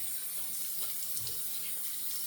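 A tap runs steadily into a sink to rinse a GEM Featherweight single-edge razor, a constant close hiss of flowing water with slight splashing and no talking.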